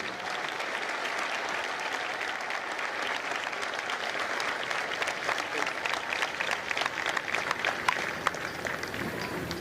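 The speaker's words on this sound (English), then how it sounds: "Ladies and gentlemen, please join me in a round of applause for the company staff of Fox Company" Sustained applause from a graduation ceremony audience at MCRD San Diego honoring the Fox Company staff, dense and steady clapping from a large crowd throughout, with scattered sharper claps standing out near the end.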